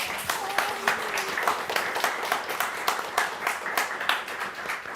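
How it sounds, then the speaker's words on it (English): A live audience gives the team a round of applause after a talk on designing inclusive VR experiences: dense, steady clapping from a mid-sized crowd with a faint voice briefly audible beneath it. "can we have a round of applause for the team?"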